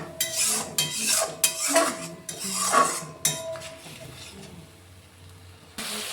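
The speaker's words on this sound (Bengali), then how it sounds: "এই মশলাগুলো আমি জলে গুলে নেব, দিয়ে তেলের উপরে দেব।" Spice paste of chili and coriander powder mixed in water going into hot oil in a pan for Bengali koi fish curry, heard as a run of close metallic clinks and scraping stirs, with a brief hiss and quieter moments between.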